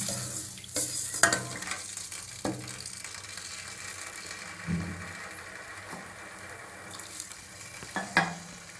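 A pan of tamarind brinjal curry bubbles and sizzles steadily at low volume, with occasional soft clinks and stirring knocks breaking the gentle simmer.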